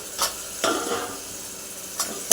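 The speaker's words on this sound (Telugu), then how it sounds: "ఒకసారి తిప్పేస్తున్నాను." Onions softened in a pan with tomato being stirred, a few brief scraping strokes over a faint steady sizzle, fairly quiet and close.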